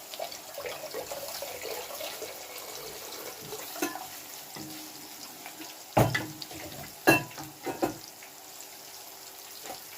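Water is added to a pan of zucchini and tomatoes cooking on a home stove, giving a running, trickling pour with a few sharp clanks and splashes in the latter half, no talking.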